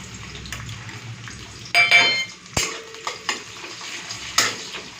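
Chopped onion goes into hot white oil in a wok for a fish curry. It gives a soft frying hiss broken by sharp metallic clinks and scrapes of a stirring utensil, close and fairly quiet.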